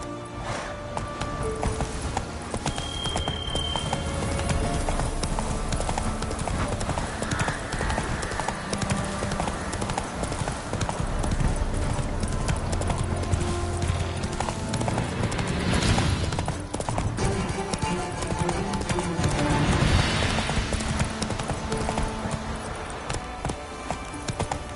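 Roach, a horse in The Witcher 3, gallops with steady, loud clip-clopping hooves running continuously under a dense layer of game music and ambience, with faint talk mixed in.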